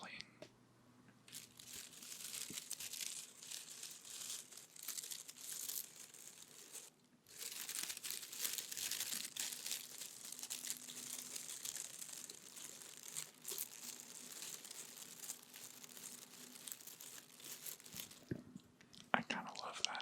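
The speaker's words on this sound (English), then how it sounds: "Let's do some more leaf rustling." Boston fern leaves rustle and crinkle right up against the microphone in a soft, continuous texture of dry scratchy brushing. There are occasional brief pauses and a few sharper crackles.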